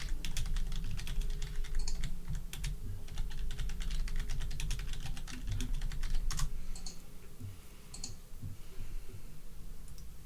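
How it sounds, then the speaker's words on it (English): Rapid, irregular keystrokes on a computer keyboard clatter steadily for about ten seconds over a low room hum, near and fairly quiet, with no talking. "I'm just typing to someone."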